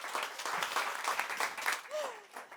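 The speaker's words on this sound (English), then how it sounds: "You can applaud now" Audience applause for a speaker being introduced at an Impulse Talk session, steady broadband clapping throughout, with a brief whistle-like tone near the end.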